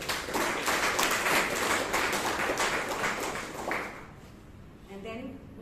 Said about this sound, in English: Let's give a huge round of applause to Toastmaster Vaidyanathan.